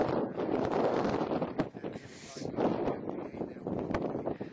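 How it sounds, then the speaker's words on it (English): Strong gusts buffet the microphone in rough, continuous bursts that swell and dip, with faint voices underneath. "Can they hear the wind?"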